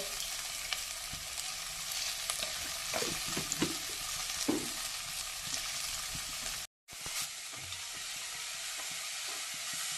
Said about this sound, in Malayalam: ഇനി നമുക്കിത് വഴറ്റിയെടുക്കാം.